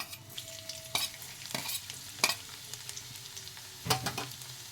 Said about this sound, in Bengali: রসুন কুচিটা ভালো করে ভাজা হয়ে যাবে।